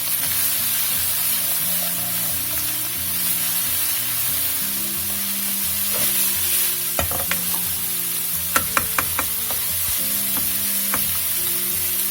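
Turmeric, black pepper and cinnamon fry with minced meat, giving a steady sizzle marked by clusters of sharp spoon-on-pan stirring clacks, close and loud, with no talking.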